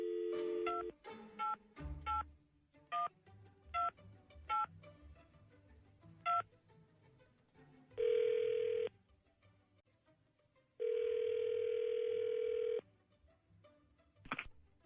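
Touch-tone telephone keypad beeps in a quick irregular series of short dialing tones, followed by two long ringback tones with a pause between, loud and clear with no talking.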